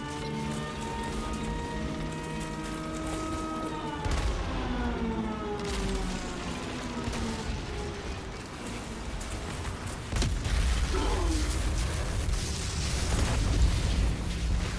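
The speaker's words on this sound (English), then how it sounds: "Artillery support incoming!" Artillery strike explosions in the video game Outriders: a sustained roar of blasts and rumbling booms, with heavier impacts around four and ten seconds, loud and dense over a tonal game background.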